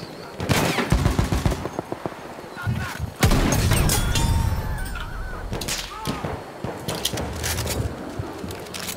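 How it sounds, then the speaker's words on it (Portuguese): Bursts of rapid gunfire in the video game Battlefield 1 crackle in loose volleys, some near and loud, others more distant, with a brief voice cutting in partway through. "Tá só escutando os tiros."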